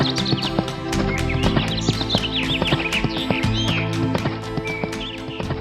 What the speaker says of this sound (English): Morris leapt on his horse Philip and rode off